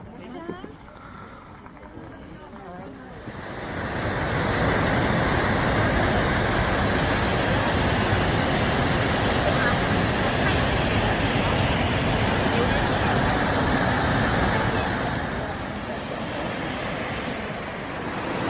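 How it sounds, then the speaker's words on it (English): A steady, roaring rush of an Icelandic waterfall fills the scene, loud and constant, with wind buffeting the microphone early on. "There's a waterfall here."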